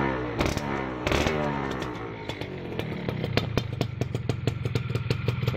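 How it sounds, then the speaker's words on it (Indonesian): Yamaha F1ZR two-stroke motorcycle engine starting with a few sharp cranking bursts before catching into a rapid, crackling, buzzy idle, loud and close. "Kalau untuk ngidupin motor 2 tak, kasih gas sedikit, ya, friend, baru dipencet starter tangannya."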